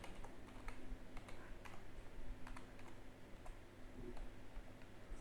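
Rapid, uneven clicking of keys on a computer keyboard as a prompt is typed, close and fairly quiet, alone without talk.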